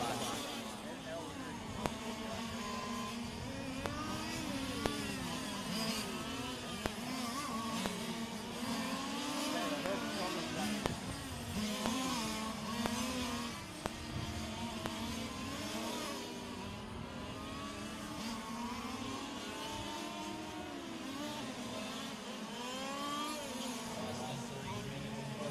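Fifth-scale on-road RC race cars run a qualifier at the IFMAR world championships, their buzzing engines rising and falling in overlapping passes at middle distance while a commentator talks over the action throughout.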